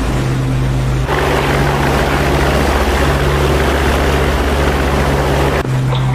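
Steady droning aircraft engine during a climb in the DCS World flight simulator, a loud constant propeller-like hum with a brief change in tone near the start and end.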